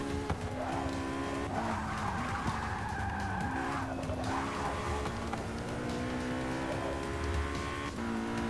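A McLaren race car in Forza Motorsport 6 holds a loud, continuous engine drone as its tires squeal and skid through corners, with pitch rising and falling across the run and no talk over it.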